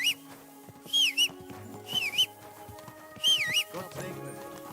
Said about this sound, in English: Don't whistle here. Nobody wants to hear it.